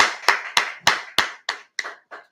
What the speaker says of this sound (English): everyone clap it up